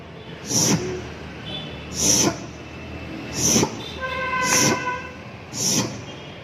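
During a religious discourse, a voice imitates a train engine slowly starting, with five rhythmic, breathy chugging puffs, evenly spaced, a faint whistle-like tone between the later ones.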